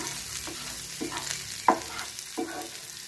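Potatoes coated in masala powder are stirred as they fry, a steady close sizzle punctuated by four evenly spaced scraping strokes of a spoon through the pan.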